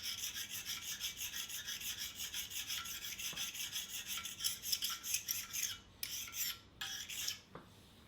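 A steady raspy filing or rubbing stroke deburrs metal on a Monarch 10EE lathe, repeating close-up in an even rhythm for most of the clip, then breaking into a few shorter passes near the end.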